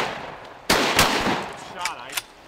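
Shotgun blasts while hunting mallards on a river: one sharp, loud shot, a second close behind, then fainter reports as the echoes die away, outdoors with no talk.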